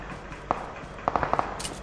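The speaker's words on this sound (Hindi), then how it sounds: "गोलियां चल रही हैं एंगल 85 से।" Sharp PUBG gunshot cracks ring out, a single shot and then a quick burst of several more, fairly close.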